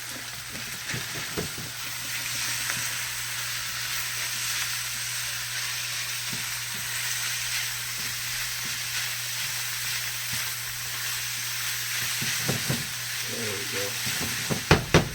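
Ground beef fries in a pan for dirty rice, a steady broad sizzle with occasional scrapes and clicks of stirring, loudest near the end.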